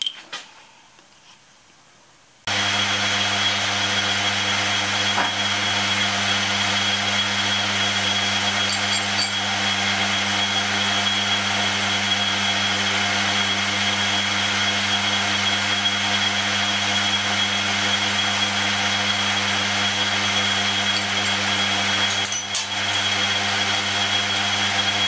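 A drill boring holes in steel toolholder blocks, starting abruptly after a quiet moment and then running as a steady, loud, unbroken whine with a deep hum, a couple of faint clicks partway through.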